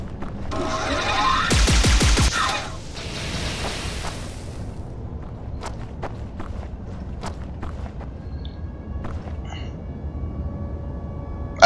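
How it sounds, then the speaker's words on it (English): Gunfire from the ATL chain cannon in the Duke Nukem Forever video game: a short, loud rapid burst of shots early on, then quieter clicks, clanks and ambient game noise. "ATL chain cannon."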